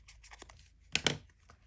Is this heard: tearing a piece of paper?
yes